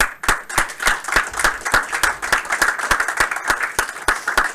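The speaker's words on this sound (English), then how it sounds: "last round of applause, everybody" A small audience claps at the end of a game studio's build review session, with distinct sharp claps in an uneven rhythm carrying steadily, fairly close.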